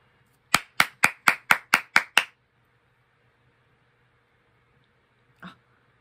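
Eight sharp hand claps in quick, even succession from a single viewer reacting to a drum performance, close and loud, followed by silence and one faint later knock.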